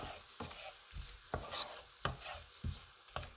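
Shallots browning in a hot pan give a steady low sizzle, broken by about six sharp scraping strokes as they are stirred at a regular pace. It is close and fairly quiet, with no talking.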